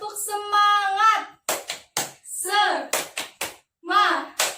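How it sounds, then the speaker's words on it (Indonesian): Children clap a rhythmic 'tepuk semangat' chant in a classroom group, with short bursts of hand claps alternating with their chanting voices. "ayo bareng-bareng semuanya tepuk semangat ya"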